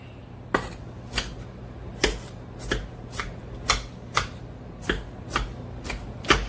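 A kitchen knife chops an onion on a cutting board for barbecue jackfruit sliders, about a dozen sharp, evenly spaced knocks close by, alone over a low steady hum.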